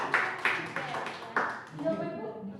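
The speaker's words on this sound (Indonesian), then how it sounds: "Tepuk tangan untuk Bu Indira dan Pak Budi." An audience claps for two participants at a school teachers' training session: a few scattered, fairly close claps in a small room, thinning out as a voice begins speaking.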